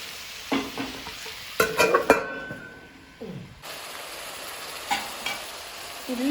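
Onions fry for a Manjali biryani in a pan, a soft continuous sizzle broken by a few close, sharp scrapes and clinks of a spoon stirring against the pan, with one brief quiet gap midway and no voices.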